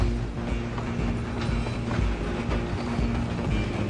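A moving train in the Red Dead Redemption 2 video game rumbles and rattles continuously, loud and dense, with a steady clatter of wheels and cars filling the whole stretch.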